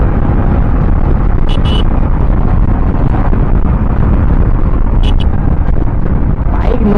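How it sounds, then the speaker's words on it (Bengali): A motorcycle rides along an open road, its engine buried under heavy, roaring wind buffeting the microphone, loud and constant throughout with a couple of brief high chirps. "চলো একটু রাস্তায় চালানো যাক বাইক।"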